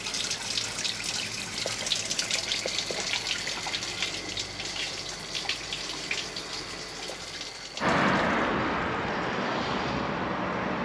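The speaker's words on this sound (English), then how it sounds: "Wash the face off a little bit." Water runs from a tap while someone washes their face outdoors on a walk to a monastery in Bosnia, with splashing and trickling that turns to a louder steady gush near the end.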